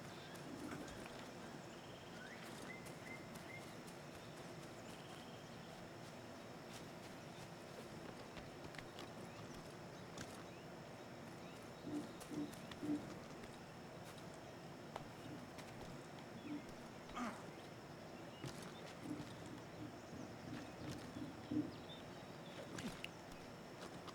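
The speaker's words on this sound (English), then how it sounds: "Oh, there's the horse." Horse hooves clip-clop in the Assassin's Creed 3 video game, a faint, steady run of soft beats over a continuous low ambient bed, with no talk.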